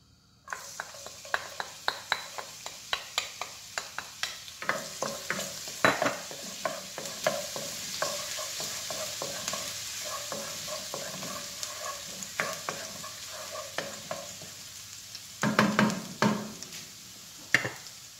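Garlic sizzles in a quarter cup of hot olive oil while a utensil stirs, scrapes and taps against the pan in irregular clicks over a steady frying hiss.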